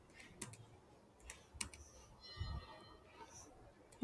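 Computer keyboard keys tapped in short uneven bursts while someone writes Python code, faint and close, with scattered clicks and a low thump near the end, and no speech.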